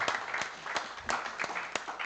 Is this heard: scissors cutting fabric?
no